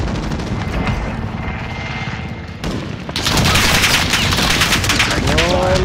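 A helicopter drones over dense, rapid gunfire in the Call of Duty: Modern Warfare video game, the battle noise loud and continuous, swelling into a heavier barrage midway with a sweeping whine near the end.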